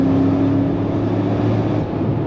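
A Brabus G700 G-Wagon with side-exit exhaust pipes accelerates under throttle, giving a loud, continuous engine and exhaust roar that holds steady before easing off near the end, with no voices.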